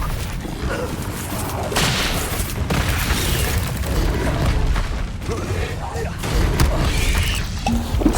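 Confringo blasting spells burst in Hogwarts Legacy combat, thumping and crackling amid constant noisy battle sounds, with character voices calling out at points.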